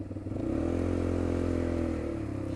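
An ATV engine accelerates close by with a steady, throbbing drone and mechanical clatter, the pitch swelling and easing over a couple of seconds.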